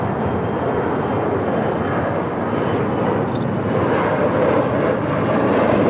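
A jet airliner roars down runway 25 right on takeoff, a steady broadband rumble heard from a distance that holds constant throughout.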